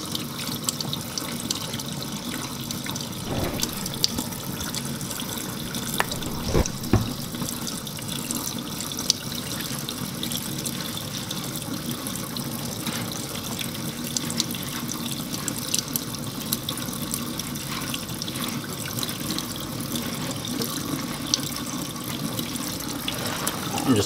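Water runs steadily from a tap while hair is rinsed, a constant broadband hiss and splash lasting throughout with a few brief knocks.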